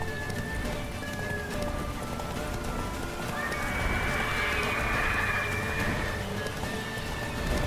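Roach, Geralt's horse in The Witcher 3, gallops with a steady, continuous clip-clop of hooves and a brief whinny partway through, all fairly close and loud.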